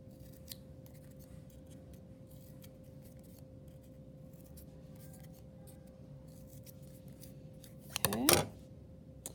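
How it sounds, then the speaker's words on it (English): Scissors snip slits into a bracelet loom in one short, crisp burst of cutting near the end, close and clear against a quiet room with a steady low hum. "using my scissors, I'm going to cut those slits."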